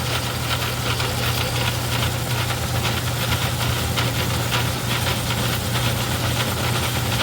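A Craftsman 109 metal lathe machines a part with a steady, loud motor hum and drone that doesn't let up. A faint rattle of vibration runs along underneath, and no one talks.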